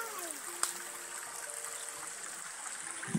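A mountain waterfall and stream in the Serra de Caldas hills, carrying cold water, give a steady, even rush of flowing water, fairly faint, with a few thin, high tones and a brief splash near the end.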